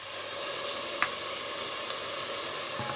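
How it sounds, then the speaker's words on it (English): Hot stock ladled into a risotto pan sizzles against the rice in a steady soft hiss, with one brief splashy clink partway through; faint and without talk. "Now I'm going to put in 2 ladlefuls of the hot stock to start it off."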